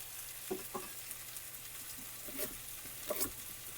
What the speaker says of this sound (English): you really only want to fry that for, say, 3 to 5 minutes